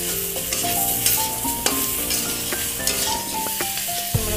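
Spices with turmeric, chili powder and salt are sautéed in a pan, giving a continuous loud sizzle with scraping spatula strokes and a few metallic clinks, with no voices.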